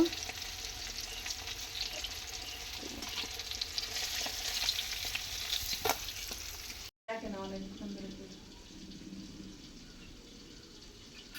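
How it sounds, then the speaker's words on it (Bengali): Steady sizzling of hilsa fish frying in oil, with a brief cut midway; afterward a voice speaks quietly over the fainter sizzle. "ইলিশ মাছগুলো ভাজা হয়ে গেল"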